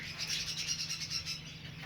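A flock of budgerigars kept in a breeding room chirps and chatters in a dense, continuous twittering at moderate distance, steady and unbroken throughout, with no voices.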